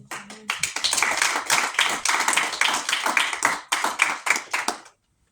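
A church congregation claps in acclamation, a dense, steady run of many hands that carries on for about five seconds and then stops abruptly, with no talking over it.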